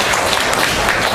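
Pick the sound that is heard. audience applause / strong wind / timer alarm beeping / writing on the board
audience applause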